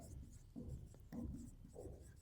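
Pen writing math on paper, soft scratchy strokes in short bursts with small pauses, quiet and close, no voices.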